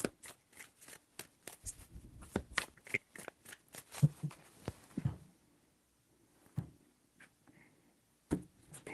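Tarot cards are shuffled by hand in a rapid run of crisp riffling flicks, close and fairly quiet, thinning into a few sparse taps before one last snap.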